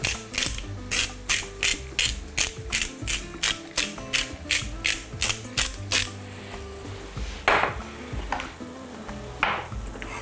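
A salt grinder cranks out sea salt over chicken breast in rapid, regular ratcheting bursts for about six seconds, followed by scattered softer handling noises and faint kitchen clatter.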